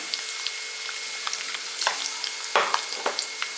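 Five cut garlic cloves sauté in hot oil, a continuous bright sizzle with occasional spatters and stirring scrapes, close and fairly quiet, no voices.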